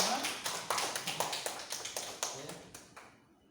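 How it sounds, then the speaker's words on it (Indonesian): Classroom applause after group presentations in a school lesson, a short run of sharp claps that fades out over a few seconds. "tepuk tangan untuk semua."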